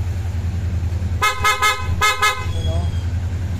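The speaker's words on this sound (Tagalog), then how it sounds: "Busina." Motorcycle horn sounding in short, loud, sharp bursts, three quick toots and then two more, over a steady idling engine rumble.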